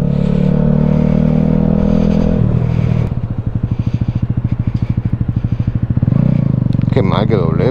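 A Yamaha NMAX 125 scooter engine runs steadily and close, its idle giving way midway to a pulsing, throbbing motor rhythm as it pulls away, then settling back to a smoother drone.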